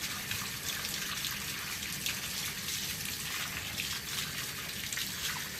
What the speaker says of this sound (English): you're just going to rinse it off this side now real quick